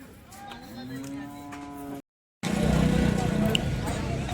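A cow lets out a long, close moo at a cattle market in Sangola, and after a short gap a loud rumble of engine noise and background sounds takes over.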